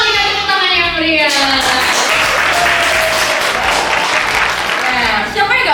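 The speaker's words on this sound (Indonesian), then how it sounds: "kamu berikan tepuk tangan yang meriah" Loud, sustained applause from an audience welcoming new university students at an MC school event, dense clapping filling the whole stretch with faint voices mixed in.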